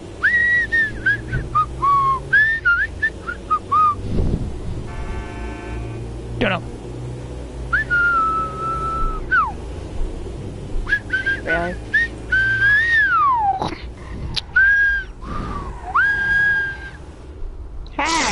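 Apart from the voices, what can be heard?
person whistling a tune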